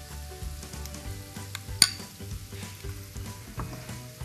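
Vegetable fritters frying in hot oil, a close, crackling sizzle with soft bubbling, occasional utensil clinks and one sharp metallic tap, no talking.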